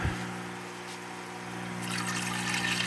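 Water pours steadily into a hydroponic container, rising toward the net pot, with a low hum underneath, the splashing growing a little brighter toward the end.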